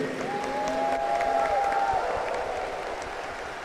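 Sustained applause from a congregation at a Catholic Epiphany Mass, a steady dense patter of clapping that swells slightly and then eases off.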